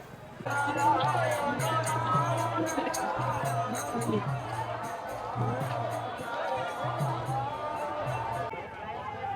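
A large, dense crowd at a Ram Navami celebration on the streets of Ayodhya, a steady roar of overlapping voices close by, with a rhythmic chant or beat running under a nearby speaker's talk.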